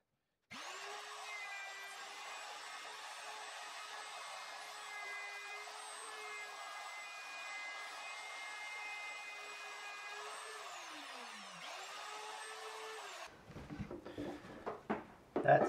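A router cuts a tenon for a bolt-on guitar neck joint in a jig, a steady high whine holding for about twelve seconds, dipping briefly under load before spinning back up, then stopping, followed by a few clunks.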